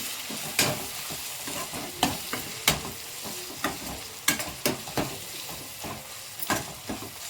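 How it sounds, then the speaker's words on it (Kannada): Turmeric powder is stirred into a Nellore-style silver fish curry in a hot pan, with repeated sharp scraping strokes at an uneven rhythm over a steady sizzle, and no talking. "ಈಗ ಸ್ವಲ್ಪ ಟರ್ಮರಿಕ್ ಪೌಡ್ರನ್ನ ಸೇರಿಸೋಣ ನಾವು, ಸ್ವಲ್ಪ ಅದಕ್ಕೆ ನೀಟಾಗಿ ಮಿಕ್ಸ್ ಮಾಡ್ಕೊಳ್ಳೋಣ"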